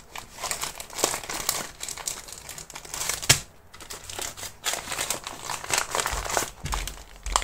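Plastic packaging crinkles and crackles steadily as items are pushed and stuffed into a tightly packed mailer, with a few sharper crunches and a low thump near the middle.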